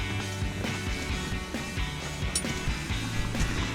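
Ratcheting on shifter bolts during a short throw shifter install on a 1994-2004 Ford Mustang, giving quick repeated metallic clicks close up against a busy mechanical background.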